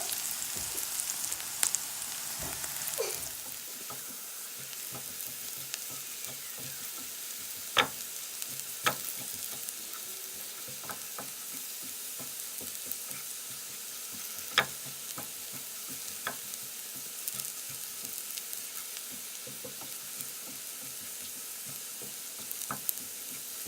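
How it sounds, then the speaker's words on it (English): Onions frying on a stove at medium-low heat, with a steady soft sizzle and occasional scrapes and clicks of stirring scattered through. "So keep stirring this until it gets brown"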